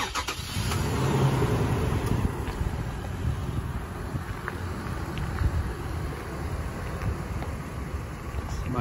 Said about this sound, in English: if I start the car, which I have a Viper remote start through my phone